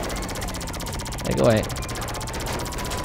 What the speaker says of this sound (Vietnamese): Cái khẩu súng laser này mạnh thì mạnh thiệt. Nhưng mà bắn nha.